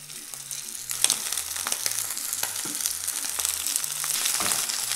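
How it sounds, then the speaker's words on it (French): Shrimp sizzle loudly in hot oil in a pan, a steady close crackling fry with scattered pops and a faint melodic tune running underneath. "La poêle est chaude, je mets 2 cuillères à soupe d'huile. Et je mets les crevettes."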